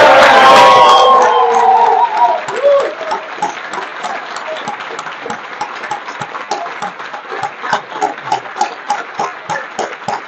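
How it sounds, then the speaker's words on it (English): An audience at a Virginia governor's event stands and cheers for ARC of Virginia, with loud whoops and shouts at first that settle into sustained clapping. "may I ask everyone to please stand up with a rousing cheer for ARC of Virginia"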